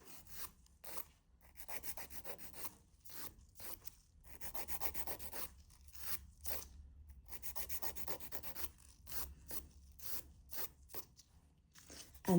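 A 240-grit hand file rasps on a gel nail in quick, rhythmic strokes, close and fairly loud, with short pauses between bursts of scraping.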